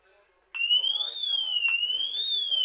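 An ABUS alarmed motorcycle disc lock goes off after being moved: a sudden loud, shrill electronic siren that sweeps slowly up and down in pitch, close and continuous after a brief quiet start.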